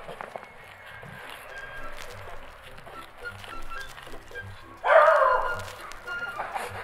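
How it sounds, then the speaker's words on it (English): Dogs bark at two people planting pansies beside a building in Graz, Austria, with a sharp louder burst near the end over mixed background noise and some talk. "They've already set the dogs on us."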